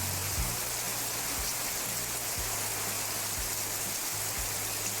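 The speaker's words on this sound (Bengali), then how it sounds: "হঠাৎ করে শুরু হলো বৃষ্টি, টুপটাপ শব্দে ভিজে উঠল পুরো গ্রাম" Rain falls on a village in a soft, even hiss, with low hum tones pulsing faintly underneath throughout.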